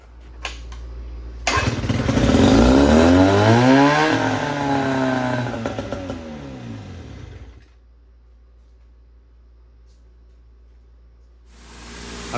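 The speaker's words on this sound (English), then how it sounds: "ripped that pull handle, and as you guys heard, she fired right off" A 1972 Johnson 6R-72D 6 hp two-stroke outboard motor fires up after a pull start, revving loud and raspy before settling and cutting out, leaving near silence, close up.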